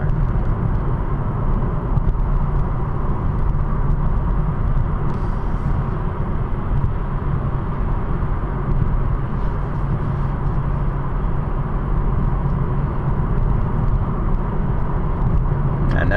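A car drives along an 80 km/h road, its steady engine and tyre rumble running continuously and fairly loud throughout, with no voices.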